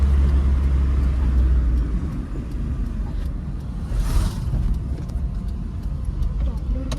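Inside a car driven on a road, a low, steady engine rumble and road drone continue throughout, with a brief whoosh of passing traffic, while people talk over it.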